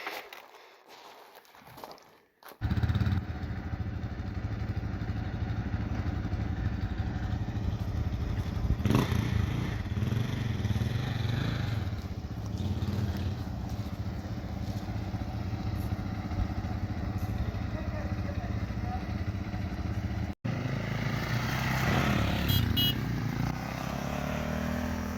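A 2002 EXC dirt bike starts up after a short quiet stretch, then its engine roars loudly and steadily as it rides off, the note rising and falling through gear changes before fading and cutting out briefly near the end.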